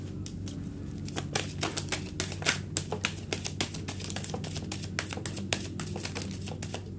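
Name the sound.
tarot cards being laid down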